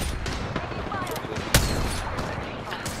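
Bursts of gunfire in Apex Legends, rapid shots cracking over a busy game mix with one sharp louder blast midway, and voices talking over the action.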